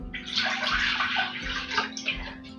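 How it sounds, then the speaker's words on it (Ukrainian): Water pours steadily into a cooking pot, 500 ml in all, a continuous splashing rush with a gurgling ring that shifts slightly in pitch as it fills. "Найперше нам потрібно в кастрюльку вилити 500 мл звичайної води"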